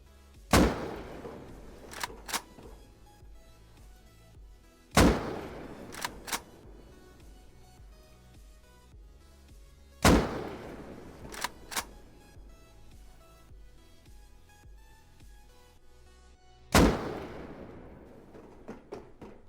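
AK rifles with weapon flashlights fire in the game Rust. Single loud sharp shots, each followed by one or two quicker cracks, in bursts about five seconds apart over a quiet background, no talking.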